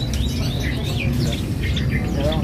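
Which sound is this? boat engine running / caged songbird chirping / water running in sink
caged songbird chirping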